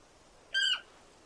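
A short synthetic bird squawk from a Final Fantasy game, a single bright call lasting under half a second that rises and then falls away, heard alone against a quiet backdrop.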